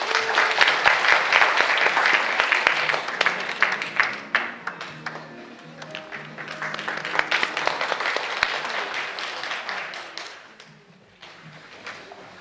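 Audience applause at the opening ceremony of an international Saemaul forum welcomes a city mayor to the stage: a full burst of many clapping hands that thins into scattered claps, with a voice starting faintly near the end.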